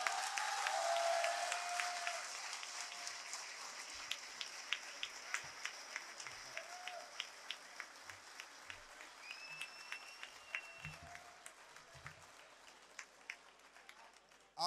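Audience applause at an Urdu poetry mushaira in Lahore: a dense roar of clapping at the start that thins over several seconds into scattered, sharp individual claps, with a brief whistle-like tone partway through.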